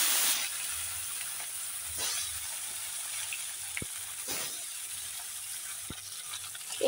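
Small boroli river fish fry in hot oil with a faint, steady sizzle, broken by a few sharp clicks and scrapes of a utensil turning them in the pan.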